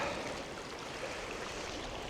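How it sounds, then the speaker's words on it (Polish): Small river flowing in the rain beside a campsite, a faint, steady broadband rush of water murmuring continuously with no voices. "Rzeczka szumi"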